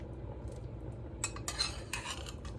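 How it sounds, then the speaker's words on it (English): Potatoes dropped into a pot of homemade beef stew, a few close metallic clanks and clinks of utensil against pot in quick succession over a low steady background hum. "I'm going to take my potatoes and put them in here."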